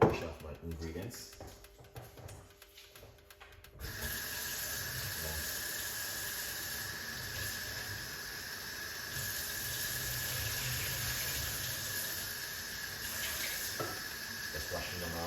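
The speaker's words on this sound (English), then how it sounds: "Just washing them off and with the water running." Tap water running into a sink while ingredients are rinsed, a steady hissing stream that begins a few seconds in after some soft handling clatter and continues evenly to the end.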